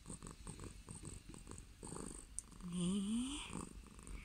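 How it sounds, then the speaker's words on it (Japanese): Domestic cat purring up close, a soft rhythmic rumble pulsing steadily at low volume, followed by a brief voice speaking gently over it. "ほら、ゴロゴロ言ってますよ、こっちの子が。"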